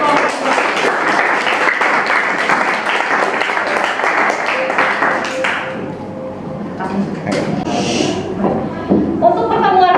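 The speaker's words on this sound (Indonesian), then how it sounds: "Sekali lagi beri tepuk tangan untuk kelompok 2." A classroom full of students applauds a presenting group with steady, dense clapping for several seconds that thins out toward the end, with a few scattered taps and voices behind it.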